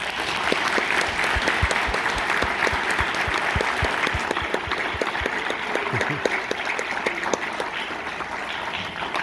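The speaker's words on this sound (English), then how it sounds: "Let's give these kids one more round of applause." Sustained applause from a concert audience for school band children, dense steady clapping filling the room throughout with a few sharper individual claps standing out near the front.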